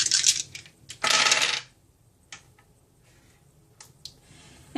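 Six dice rolled for the King of Tokyo board game rattle and clatter in two short bursts, a quick sharp tumble and then a louder, fuller roll on a table, with faint clicks afterward and no talking.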